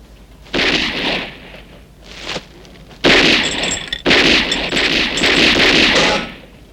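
Gunfire in a police action scene from a 1970s comedy film, loud bursts of shots and crashing impacts coming in uneven clusters with short gaps, close and dominant.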